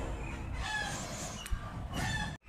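Chickens cluck and a rooster crows outdoors, a busy close layer of fowl calls running steadily through the moment before cutting off abruptly at the end.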